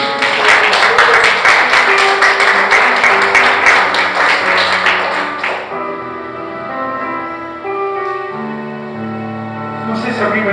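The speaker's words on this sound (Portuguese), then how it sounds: "Você pode dar mais uma aplauso ao Senhor Jesus." A church congregation claps loudly in a thick, continuous burst for about five seconds, then the applause stops and sustained musical tones and singing take over for the rest of the clip.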